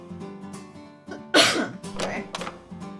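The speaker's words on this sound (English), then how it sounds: "Clear my throat." A single sharp throat clearing bursts out mid-clip in a visual novel game, followed by a rougher rasp, with quiet vocal murmurs before and after.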